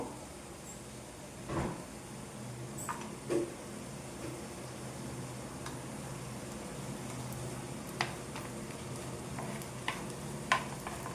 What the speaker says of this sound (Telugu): నెయ్యి వేగిన తర్వాత కొబ్బరి ముక్కలు వేస్తున్నానండి